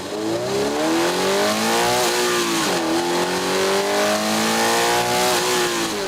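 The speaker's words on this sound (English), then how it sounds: "the GR86's engine does its best work when spinning fast, and positively sings" A Toyota GR86's naturally aspirated flat-four engine revving high and loud on a track, its pitch climbing and dipping through gear changes in a smooth, strained howl.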